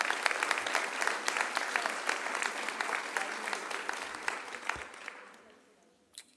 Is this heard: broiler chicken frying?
no